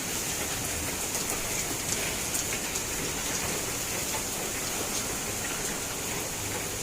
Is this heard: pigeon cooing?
no